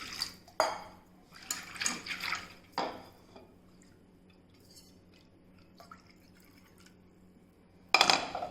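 Cashew nuts being washed in water in a steel vessel for Vishu payasam, with a few close splashing, clinking bursts separated by quiet gaps and faint drips.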